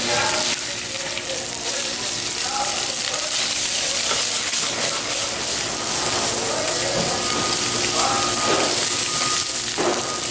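Skin-on, high-fat fish fillet pieces fry in a pan, giving a steady, close crackling sizzle that continues throughout with occasional louder spatters.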